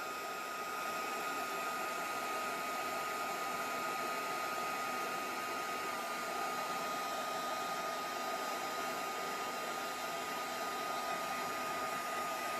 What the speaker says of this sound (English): let's get my heat tool heated up.